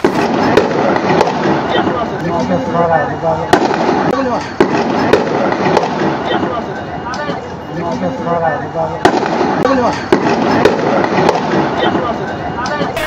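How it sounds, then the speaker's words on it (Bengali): Gunshots ring out in a staged street protest scene for a short film, sharp cracks recurring irregularly over a dense crowd din with shouting voices throughout. "গুলি লেগেছে।"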